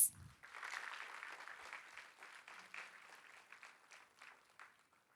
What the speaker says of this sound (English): Let us receive our distinguished guests with a resounding round of applause.